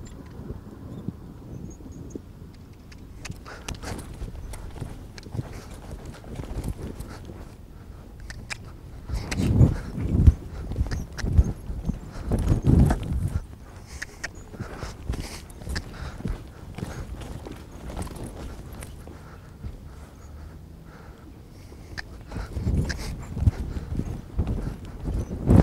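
Horse hooves clip-clop steadily on the ground during polocrosse riding practice, a continuous run of hoofbeats under wind noise on the microphone, growing louder and busier in the middle stretch.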